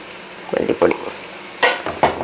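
Chili, turmeric and coriander powders frying in a pan for a crab roast, stirred with a spoon in a few short scraping, sizzling strokes, close and moderately loud with no talk.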